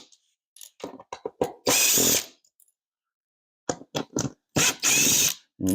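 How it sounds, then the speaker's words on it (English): Power drill driving a screw at full speed in a workshop, two loud sustained whirring bursts separated by short clicks and handling noises, with no talking. "And make sure when you're using a drill, just make sure that you don't torque too much."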